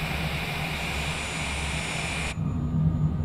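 A Honda Jet's engines in Microsoft Flight Simulator 2020 whine steadily with a bright high tone over a deep rumble, then the hiss cuts off abruptly, leaving only a low hum, with no talking.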